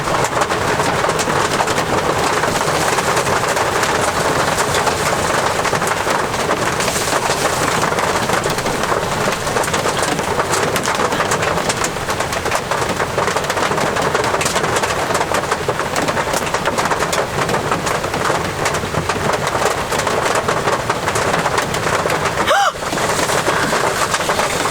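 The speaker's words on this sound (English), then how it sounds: "It's supposed to be dry season in the rainforest, but that doesn't mean there's no rain." Steady, dense rain falling in a tropical rainforest during the dry season, a loud continuous hiss that runs without a break, with no talking.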